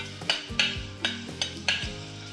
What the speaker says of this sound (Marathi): हा ठेचलेला लसूण घालूया